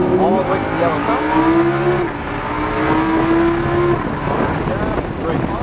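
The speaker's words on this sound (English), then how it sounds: "we can start squeezing on the gas, and as much gas as you want to use, all the way to the yellow cone" A car's engine rises in pitch as it accelerates on the New Hampshire Motor Speedway track, a loud, close drone that climbs and steps through revs, with a voice talking over it.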